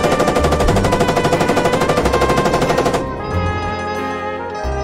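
Rapid machine-gun fire in a video game rattles loudly and steadily for about three seconds, then gives way to a lower rumbling battle drone.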